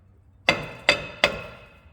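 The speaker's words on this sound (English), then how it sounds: "a couple whacks with the hammer" Three sharp metallic hammer strikes on a 2016 Dodge Caravan rear brake rotor, ringing briefly after each blow, spaced roughly a third of a second apart.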